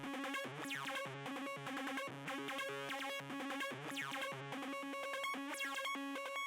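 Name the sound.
chemical bassline synth preset in Xenology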